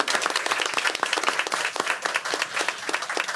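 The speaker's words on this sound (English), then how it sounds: "Can we give them another round of applause?" An audience at a board meeting bursts into steady, dense applause, many hands clapping together at close range for a few seconds.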